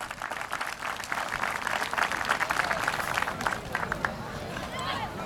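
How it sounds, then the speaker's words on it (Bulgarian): An outdoor audience at a municipal holiday celebration in Ruen applauds the organizers, a dense, steady wash of clapping lasting several seconds with crowd noise and some speech mixed in. "Искам аплодисменти за организаторите."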